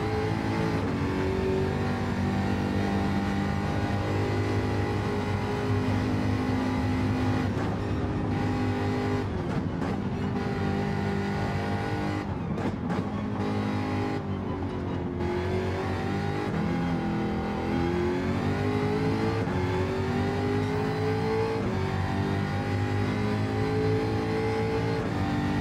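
A Jaguar F-type sports car driving hard on a race circuit, its loud, continuous engine note heard up close for the whole stretch, with pitch rising and falling as it accelerates, shifts gears and revs through corners.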